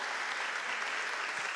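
Brief, steady applause from an audience at a scholarship award ceremony, moderately faint and continuous without pause.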